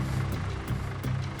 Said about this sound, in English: To push the boat, we place a long pole between the tractor and the boat.